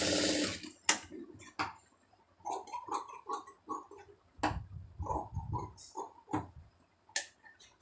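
A sewing machine stitching a lined blouse runs in short bursts of rapid, close mechanical ticking and clattering, pausing and restarting several times with no voices.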